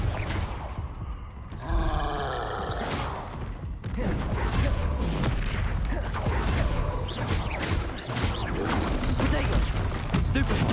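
Hogwarts Legacy combat erupts with repeated Confringo fire-blast spells, booming whooshes and impacts stacked densely over about ten seconds, mixed with shouted spell calls and grunts.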